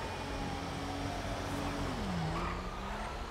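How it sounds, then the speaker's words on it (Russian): Fire truck in the video game GTA 5 accelerating, a steady engine drone whose pitch climbs and dips while holding a constant level throughout. "для пожарки довольно быстро она разгоняется"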